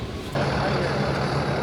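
A heavy truck engine rumbles steadily nearby as the truck reverses into a shop, after a sudden jump in loudness, with a faint high tone above the low drone.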